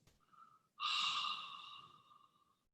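A long yoga breath exhales through an open mouth with a throaty, hushed hiss, as if fogging glass. It follows a soft, brief intake and swells suddenly, then fades gradually over about two seconds in a quiet room.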